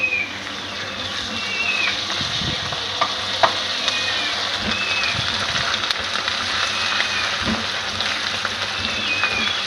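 Garlic ginger paste frying in a pan for a white beans dish gives a steady, close sizzle with occasional soft stirring scrapes and clinks, and no talking.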